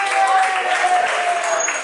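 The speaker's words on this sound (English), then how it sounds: "Come on, let's give them a big, big round of applause." Audience clapping aboard a cruise ship, a continuous bright wash of applause with a thin tone running through it and murmured voices mixed in underneath.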